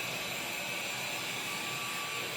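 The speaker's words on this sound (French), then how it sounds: "L'aspirateur est encore en train de passer mais vous savez il aspire pas énormément." A household vacuum cleaner runs continuously indoors, a steady airy roar with a faint high whine and no pauses.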